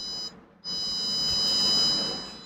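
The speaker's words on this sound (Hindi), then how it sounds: "ये मैं अब लगाता हूँ तो ये देखें बजर की आवाज़ आपको सुनाई दे रही होगी" Steady high-pitched buzzing of a multimeter's continuity tester while probing an AC inverter circuit board, cutting out briefly then sounding continuously and fairly loud, with no talking.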